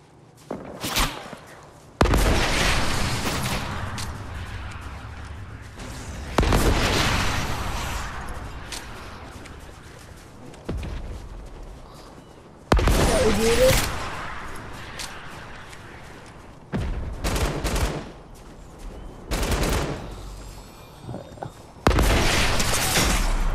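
Loud bursts of gunfire and heavy rocket explosions in the video game Fortnite, several booming blasts spread across the stretch with brief lulls between them, the shots and impacts sounding close and punchy.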